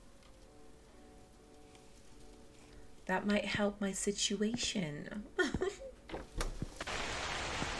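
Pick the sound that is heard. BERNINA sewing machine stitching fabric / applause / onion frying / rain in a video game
rain in a video game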